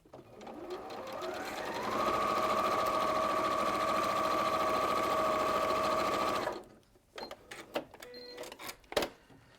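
A sewing machine runs a seam in one steady whirring stitch lasting about five seconds, speeding up at the start and stopping abruptly, followed by a few quiet clicks and handling sounds.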